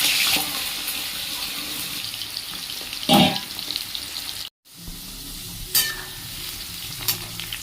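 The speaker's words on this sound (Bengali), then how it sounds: "তেল গরম হলে একে একে আলুগুলো ছেড়ে দেব।" Potatoes frying in hot white oil, a steady crackling sizzle with a few louder scrapes and stirs and a brief dropout near the middle.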